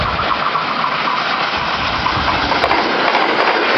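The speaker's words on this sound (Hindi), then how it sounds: "ये फिर 6142 की वीडियो है ब्रांड न्यू कराकरम एक्सप्रेस के साथ" Locomotive 6142 hauls the brand new Karakoram Express with its new CNR coaches at speed, making a steady, loud rushing roar of wheels and engine that stays constant throughout, with no voices.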